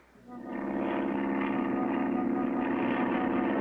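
A cartoon airplane engine drones steadily at close range, a throbbing propeller hum that swells in and then holds at a constant pitch.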